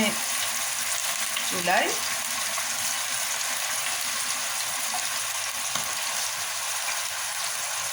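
Minced meat fries in a pan with olive oil and garlic, giving a steady hissing sizzle throughout, a brief spoken word near the start and light stirring sounds.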